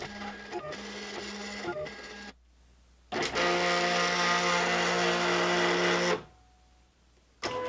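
Electronic cutting machine cutting a craft project, a Foil Quill setup: a steady mechanical hum and whir, close up, starting and stopping in separate runs with a short quiet gap between them and a final run beginning at the end.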